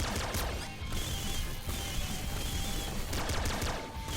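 The blood launcher weapon firing in the video game Nuclear Throne, a loud, dense burst of explosive gunfire-like blasts and crashes that continues throughout with short repeated impacts.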